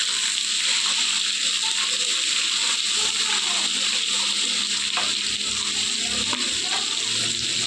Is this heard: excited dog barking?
no